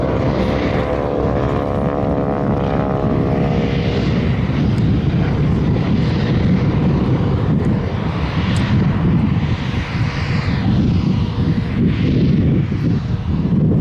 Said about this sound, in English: you hear the rasp from the propeller tips, off to the rasp of a steerman